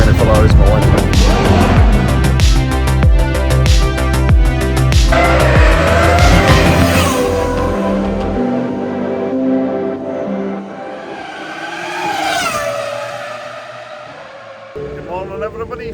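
Ferrari race cars and F1 cars at a Ferrari Racing Days event in Abu Dhabi roar past loudly, with revving engines, rising and falling pitch, and a screaming high-revving pass that fades away, while people talk nearby.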